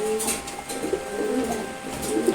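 A male Chila pigeon gives soft, low cooing notes in a short run, faint and close against a quiet hum.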